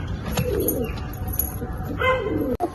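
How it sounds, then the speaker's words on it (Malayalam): Pigeons in a breeding loft, paired birds both old and young, giving soft low cooing calls amid a busy background murmur with occasional faint chirps. "ഇതാണ് നമ്മളെ കഴിഞ്ഞ സീസണിൽ ജോഡി സെറ്റ് ചെയ്ത പ്രാവുകൾ"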